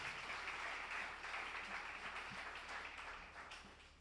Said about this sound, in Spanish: Fuerte ese aplauso al Señor.